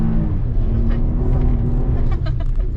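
2021 GMC Canyon AT4 pickup drifting on a dirt two-track, its engine droning loud and close in a steady rumble, with tires scrabbling over loose ground and someone talking over the noise.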